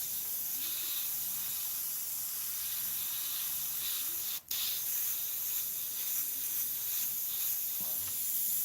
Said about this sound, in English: too much air, too much volume coming out of the airbrush through the Mac valve